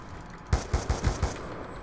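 A shotgun in the shooter game Black Ops 2 fires five close, loud blasts in a fast, fairly even rhythm after a quiet start.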